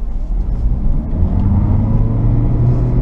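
A 2014 Toyota Prius V pulling hard in power mode, a steady low engine drone and road rumble heard from inside the car, loud and continuous with a faint rising whine.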